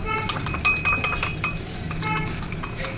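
A spoon scrapes and clinks against a bowl while mayonnaise is mixed in a home kitchen, with a quick series of metallic taps close by and a voice talking over it.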